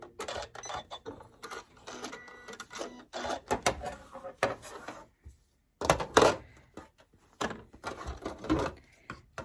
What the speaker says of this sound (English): I'm just going to sew straight down using the 1/4 inch